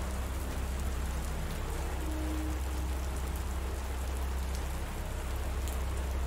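Steady rain falling on surfaces, a dense and unbroken hiss with a faint low rumble underneath, even in loudness from start to end with no voices.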